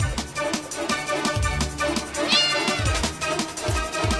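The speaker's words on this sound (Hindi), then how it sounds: "ओह अच्छा, बिल्ली है।" A cartoon cat meows over a busy, loud musical score with rhythmic low beats, and the meow is partly blended into the music.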